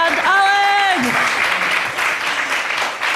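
Applause from the audience at the Sustainable Blockchain Summit at SXSW, a steady wash of clapping through the whole stretch, with a voice speaking over its start.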